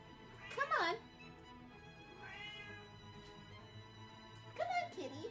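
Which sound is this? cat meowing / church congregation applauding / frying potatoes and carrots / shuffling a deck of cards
cat meowing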